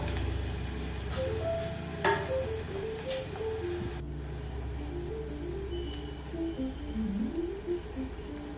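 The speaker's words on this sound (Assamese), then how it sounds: "পিঁয়াজৰ কালাৰটো অহালৈকে আমি অলপ সময় ভাজিম।" Finely chopped onion fries in a pan with cumin and jaluk, giving a soft, steady sizzle; a loud clank and occasional stirring scrapes break in partway through.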